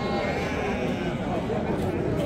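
Sheep bleating at a Friday livestock bazaar in Pastdarg'om, Samarkand, a dense continuous crowd of animal calls and market bustle, with people talking throughout.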